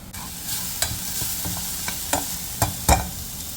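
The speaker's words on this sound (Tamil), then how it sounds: "வெங்காயம் வதங்கிருச்சு அதுக்கு வந்து துண்டு மிளகாத்தூள் மிளகுத்தூள் உப்பு எல்லாம் போட்டு நல்லா மிக்ஸ் பண்ணிடணும்" A spoon stirs chili powder, pepper and salt into sautéed onions in a pan, giving a soft continuous scraping sizzle with a few sharper clicks of utensil on metal, close and alone without speech.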